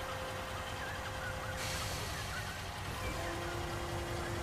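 A lorry engine rumbles steadily and close by throughout as the vehicle backs up, with a constant low drone and a faint steady tone above it, brightening into broader hiss partway through.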